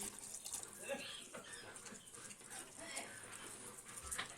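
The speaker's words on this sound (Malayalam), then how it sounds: "നമുക്ക് ആവശ്യത്തിന് വെള്ളം ഒഴിച്ചു കൊടുക്കാം" Water is poured into a simmering Kuttanad-style backwater prawn curry masala, making a steady rushing, bubbling wash throughout, fairly faint and close, with small splashes and spatters on top.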